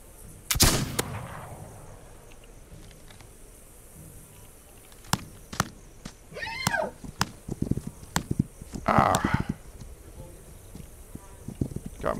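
Gunfire in the video game This Land Is My Land: scattered sharp shots, one loud near blast and several fainter distant reports over a quiet outdoor ambience, with brief rustling bursts between.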